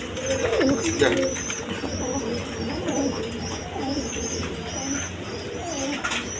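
Pigeons coo repeatedly in a loft where a pair of pigeons sits on an egg, with soft overlapping coos and some faint chirps throughout.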